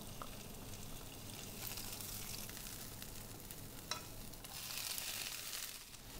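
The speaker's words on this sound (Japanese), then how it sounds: "ここにごま油を少し足してピーマンと人参を炒めていきます。" Green peppers and carrots stir-fry in a little sesame oil in a frying pan. The sizzle is quiet and steady, with occasional soft scrapes and a small clack midway, and no talking.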